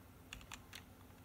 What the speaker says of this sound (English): Here, I'm going to type in